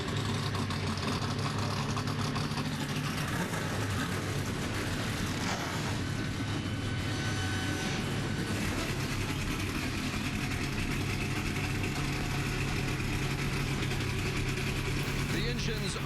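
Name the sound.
NASCAR truck engines started and idling at Dover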